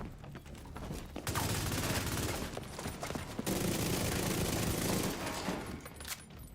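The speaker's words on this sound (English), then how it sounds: "I'm using an SMG. Like, crazy fire rate. It just melts." Rapid SMG bursts from a video game, fast-firing and dense, sound in two long stretches of continuous gunfire across a few seconds with a brief gap between, fairly quiet overall.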